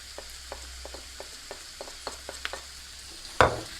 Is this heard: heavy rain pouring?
no